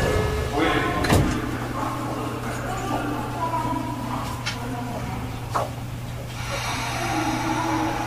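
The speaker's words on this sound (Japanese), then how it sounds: "閉まるドアにご注意ください。" Doors closing on a Tokyo Metro 05N series subway train (05-142F) on the Tozai Line, heard from inside the car, with a brief thud followed by a steady low motor hum and faint station ambience.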